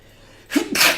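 A single sharp sneeze, a short intake followed by a loud bursting expulsion, close and isolated against a quiet background.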